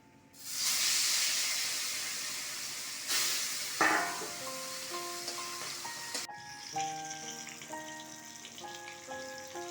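Bata fish hit hot oil with a sudden loud sizzle that settles into a steady hiss, then a sharp spattering burst, followed by quieter frying with faint tonal ringing underneath.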